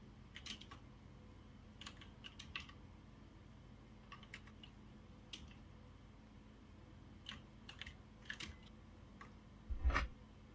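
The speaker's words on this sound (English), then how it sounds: "My keyboard clacking isn't audible, is it? It is." Computer keyboard clacking during a game of Prominence, scattered bursts and short runs of light key taps, closer and louder near the end, over a low steady background hum.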